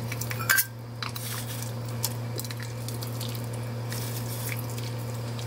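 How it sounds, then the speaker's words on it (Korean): Spicy Korean chicken soup (dakgaejang) being ladled into a bowl: soft liquid drips, a splash and light utensil clinks near the start, over a steady low kitchen hum, with no talking. "이제 한번 자 그릇에다가요 담아보겠습니다."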